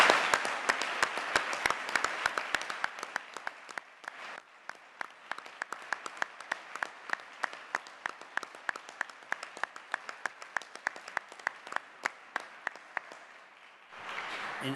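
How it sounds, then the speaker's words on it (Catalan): Applause at the closing session of a teachers' congress, opening as a dense crowd burst, then thinning into steady, rhythmic unison clapping that beats on for many seconds before a brief swell of noise at the end. "Jo vull demanar un aplaudiment especial per a ells."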